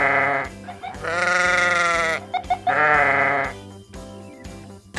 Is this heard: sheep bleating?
yes